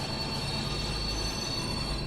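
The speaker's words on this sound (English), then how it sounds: "Just hope I stop in time. Stop!" A BR218 diesel locomotive braking in the Train Sim Classic game on the Birmingham Cross City Line: steady, dense rail rumble with a high whining wheel-and-brake squeal held throughout, close and continuous with no talk.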